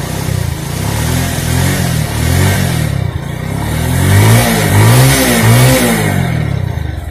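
A Bajaj Pulsar motorcycle engine runs close and loud after a scissor gear repair, idling with a steady mechanical drone, then giving a few short revs that rise and fall in the latter half.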